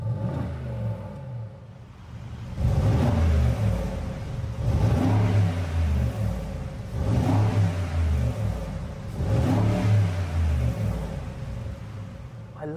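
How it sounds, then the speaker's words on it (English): A Mercedes-AMG G63 engine revs in comfort mode with its exhaust flaps closed, three swelling rises of deep rumble, each easing back to a muffled idle between them. "I just want to show you what the revs are like with the flaps closed and just in comfort."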